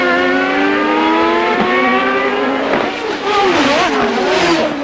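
CART open-wheel race car engines at Road America, loud high-pitched screaming as they rev, with pitch climbing and shifting through gears and a second engine joining near the end, beneath faint commentary.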